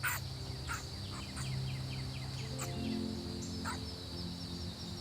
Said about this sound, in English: The young ones rushed out, their eyes shining, their chirping echoing across the dry land.